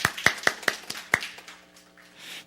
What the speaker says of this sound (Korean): 우리 큰 박수로 격려해 주시기 바랍니다